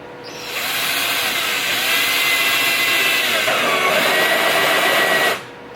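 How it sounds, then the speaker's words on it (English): A power drill whines at a steady high pitch for about five seconds, close and loud, its tone dropping briefly as it bites into wood. "That might be enough, though, to drill a few holes in this piece of wood."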